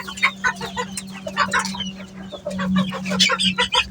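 Hens cluck repeatedly on a city rooftop farm where several birds sit on eggs to hatch them, giving short, close, uneven calls over a steady low hum.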